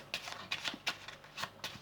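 A packet of ESP cards being shuffled by hand, giving close, soft riffling bursts in a quick irregular rhythm.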